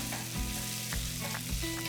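Flour frying in a non-stick pan for shrimp fricassee, a steady soft sizzle with a few stirring scrapes at regular intervals and no talk.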